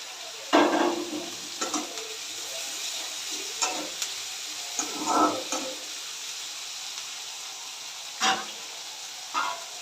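Crushed garlic, half a bulb, dropped into hot oil in a pan while cooking a bitter gourd curry, giving bursts of sizzling and stirring scrapes that come and go in several clusters, close and fairly loud, with no talking.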